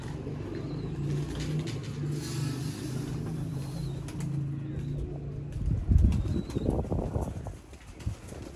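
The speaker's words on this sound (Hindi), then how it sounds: "ये देखें जी, नया कैटेगरी का कबूतर है।" A new breed of pigeon kept by a hobbyist fancier flutters its wings close by in a brief burst of flapping, with soft cooing and a low hum in the background.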